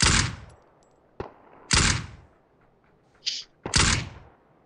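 Three loud, sharp gunshot blasts in the video game PUBG, spaced about two seconds apart, each with a short decaying tail, plus a few fainter clicks and a brief electronic tone between them.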